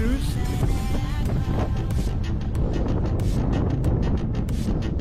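Strong headwind buffets the microphone of a cyclist riding a road race in a steady roar with gusty low rumble throughout, no clear voices over it.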